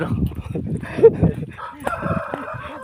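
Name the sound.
rooster crowing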